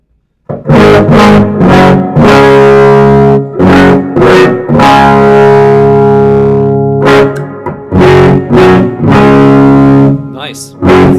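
An electric guitar played straight through an amp with lower tuning and no pedals: loud, distorted chords and single strums ring out in repeated bursts, some sustained, others cut short, with no talking.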